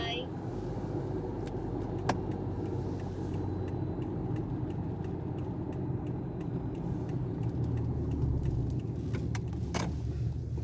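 A car cruises on a highway with a steady low rumble of engine and road noise. Faint rattles and clicks come from inside the cabin, and a voice speaks over it.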